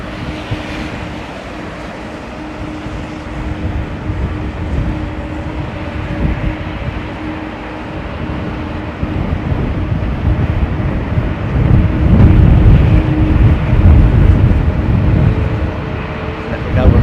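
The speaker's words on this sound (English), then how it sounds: "Listen to those engines." A windy day at London Heathrow, an airliner with Pratt & Whitney PW4000 engines roars steadily, a broad low rumble that swells louder midway and stays close, with wind buffeting throughout and no talk.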